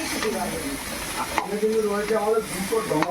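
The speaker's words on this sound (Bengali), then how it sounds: "দেখো এখন কিন্তু পুঁই শাকের মিচুরি আর কুমড়ো আলু দিয়ে মেশানো হচ্ছে।" Malabar spinach, pumpkin and potato are stirred in a pan with a steady sizzle and soft scraping, while low voices talk throughout.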